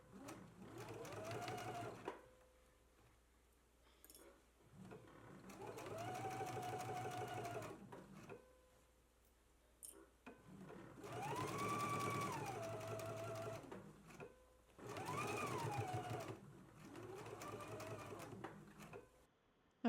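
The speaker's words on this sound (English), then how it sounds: "we can go ahead and stitch in the ditch" A sewing machine stitching in the ditch along a garment waistband, running in four close bursts of rapid mechanical whirring, separated by short quiet pauses.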